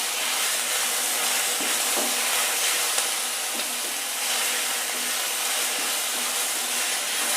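Chicken gravy with coriander and curry leaves being sautéed, a loud steady hiss of frying with faint scraping stirs underneath, with no voices.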